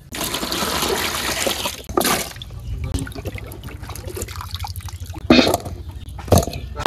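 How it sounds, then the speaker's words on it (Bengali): Cut poya fish, cauliflower and other vegetables are washed in water in a village kitchen. Water pours and splashes close by, with sloshing and dripping throughout and a few sharper splashes near the end. "এখন মাছ আর তরকারি ধুয়ে লইয়েই"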